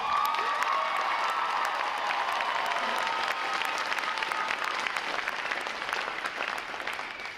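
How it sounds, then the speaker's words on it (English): A crowd at a Navy boot camp graduation claps hard and steadily for a choir, drill team and band, with some cheering mixed in. The applause fills a large space and fades slightly toward the end. "How about a round of applause for that?"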